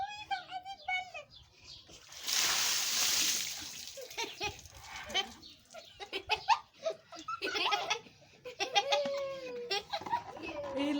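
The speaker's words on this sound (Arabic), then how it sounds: "هتكب عليكي ميه" Water tipped over a person as a cold-shower punishment in a food challenge: a loud splash burst early on, then lots of laughing, giggling and excited talk.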